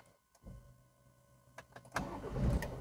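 A car engine cranks and catches after a few clicks and whirs, then rumbles into a low idle close by.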